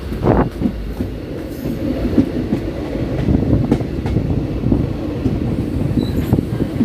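A train with a locomotive rumbles through Baheri railway station, heavy low clatter and wheel noise rolling steadily and loudly throughout, near and continuous with no speech.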